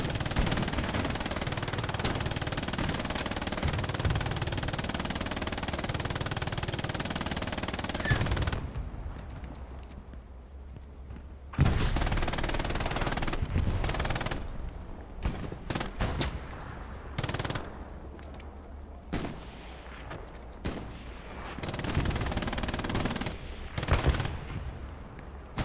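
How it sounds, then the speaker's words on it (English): Machine gun fire in the Hell Let Loose video game, rendered as dense, sustained rattling bursts that stop abruptly, then return as scattered shorter volleys and single cracks, loud throughout. "we need the MGs. Let's make them go brr."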